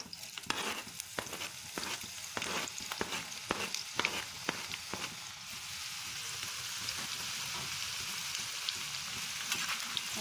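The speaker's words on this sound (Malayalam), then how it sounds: "ഇതിലേക്ക് ഇട്ട് വറുത്ത് കോരാം." Long-sliced onions hit well-heated oil for biriyani, crackling and spitting in a dense, steady sizzle with sharp pops in the first half, settling into a continuous even hiss; no one speaks.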